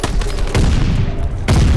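Call of Duty: Modern Warfare gunfire, loud rapid bursts of shots cracking in quick succession with heavy low-end thump, dense and close.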